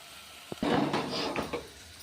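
A spoon scrapes and clinks against a pan while gutti vankaya (stuffed brinjal) curry is stirred slowly, a few close metallic knocks followed by softer scraping.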